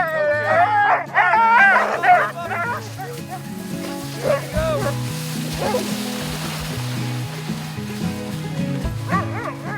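Sled dogs barking and yipping in an excited chorus, loud and close, with whines and a busy, overlapping rhythm throughout.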